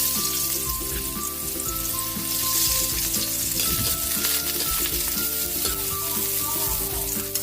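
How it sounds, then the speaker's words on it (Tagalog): Garlic sizzles and fries in hot oil in a pan as the base for a squid stir-fry, a steady, close, loud crackle that keeps going without any talk. "Lagyan na natin yung ating bawang."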